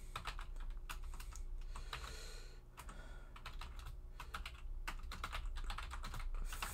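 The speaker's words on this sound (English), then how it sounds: "It's just going to be me typing and talking." Someone types on a computer keyboard in quick irregular bursts of clicking keys, with short pauses between runs, close and fairly loud over a low steady hum.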